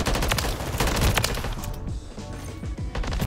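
Rapid automatic gunfire in Call of Duty, a weapon with a decent fire rate cracking off dense bursts of shots up close, loud and continuous before easing into sparser shots.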